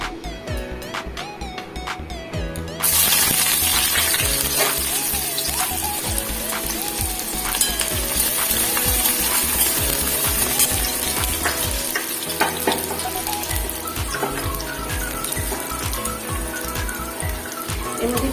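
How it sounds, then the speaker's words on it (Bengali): Potato with onion and garlic frying in hot oil in a home kitchen, a loud steady sizzle with intermittent stirring clatter, preceded by a few seconds of quieter sizzling. "এবার আমি এই আলুটাকে এবং পেঁয়াজ রসুন দিয়ে ভেজে নেবো"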